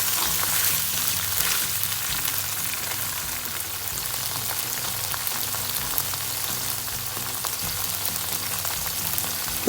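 Chilli chicken frying in a pan with soya sauce and tomato sauce while it is stirred, a steady close sizzle with low scraping mixing noises throughout and no talking.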